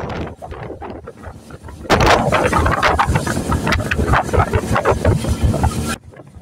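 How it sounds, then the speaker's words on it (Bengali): A speedboat races across the Padma river. Heavy wind buffets the microphone over the engine and splashing water, surging loudly after a quieter start and then dropping off abruptly near the end. "স্পিডবোট ছুটে চলছে পদ্মা নদীর উপর দিয়ে।"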